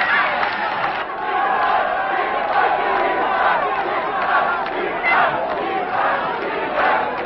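Crowd at Jacques Chirac's walkabout near the Arc de Triomphe in 1995, a loud continuous mass of chanting and shouting voices with rhythmic calls, close and sustained throughout.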